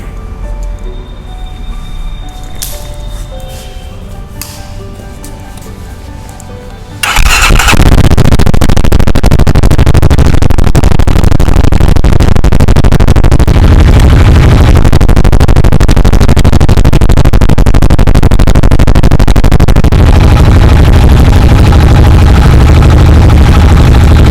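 A JAWA motorcycle's quiet low idle suddenly jumps into a loud, rough exhaust roar that holds steady and close for the rest of the clip.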